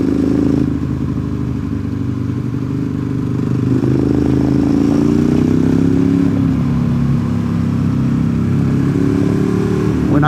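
A Ducati 848 motorcycle rides a mountain road on US 28 north of Highlands, North Carolina, its engine droning loudly and up close with rising and falling revs, accompanied by steady wind rush, with no talking.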